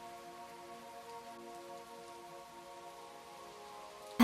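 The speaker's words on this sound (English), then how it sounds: "Let's watch the rain together for a little bit." Steady rain falls through a quiet full-moon night, a soft, continuous patter that stays even and unbroken, with no voices over it.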